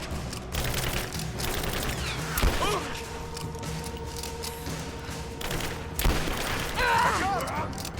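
Game gunfire from Rise of the Tomb Raider: scattered shots and heavy thumps crack through a busy combat mix, with a couple of sharp loud bursts standing out amid constant background noise and occasional voices.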